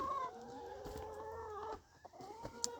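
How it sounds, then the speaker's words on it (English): Chickens cluck near their coop while eating food scraps and feed, a faint run of overlapping murmuring clucks and a drawn-out call, followed by a few brief scratches and soft taps. "Here's the chickens. They're enjoying the food scraps and a bunch of feed that I put out here for them already."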